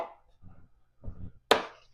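Food is chopped for lasagna in a home kitchen, a few separate knife strikes on a cutting board spaced about half a second apart, the last one sharpest and loudest, with no talk.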